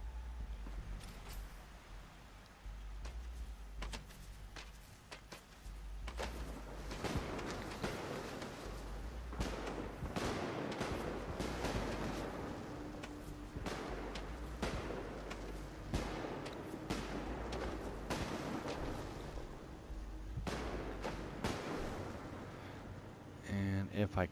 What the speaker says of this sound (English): That should have been a 21 firework salute.